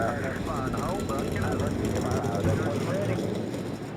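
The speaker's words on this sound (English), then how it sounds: "Drivers, start your engines!" Stock car engines in the NASCAR Racing 2003 game fire up and idle in a thick, loud, continuous roar with a steady low rumble. The race is the Oreo 400 at Rockingham.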